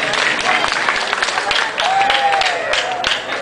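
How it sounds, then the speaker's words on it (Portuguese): Audience applause at a live Brazilian festival show, a loud sustained burst of clapping and crowd noise, with a singer's voice and instrument tones running through it. "Queria aplauso de novo, é tão bom."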